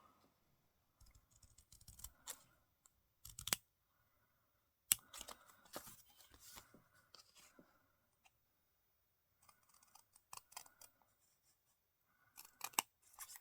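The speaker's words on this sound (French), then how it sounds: "Et je vais venir découper ce morceau." Scissors snip out a small piece of card for a scrapbooking pennant, with crisp short cuts coming in scattered bursts separated by quiet pauses, close and fairly soft.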